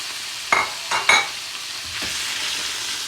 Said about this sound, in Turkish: Evet arkadaşlarım zeytinyağım kızdı. Şimdi etlerimi üzerine döküyorum.